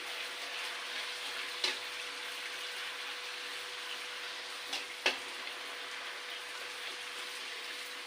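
Puchka dough fries in hot oil, a soft even sizzle held throughout with a few sharp clicks or pops standing out, fairly quiet and close, no speech.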